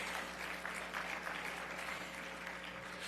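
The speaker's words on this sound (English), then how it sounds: "I hear a little bit of applause" Faint audience applause at a Martin Luther King Jr. annual breakfast, a soft, distant patter of clapping held steady over a low room hum.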